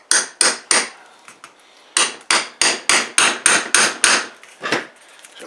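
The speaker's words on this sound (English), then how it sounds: "to put a hole in it, you've got to use a hammer and a nail" A hammer drives a nail into a very hard target in a run of sharp, loud metallic strikes: three quick blows, a pause with faint taps, then about seven steady hits and one final strike.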